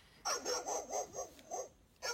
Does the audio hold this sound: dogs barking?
yes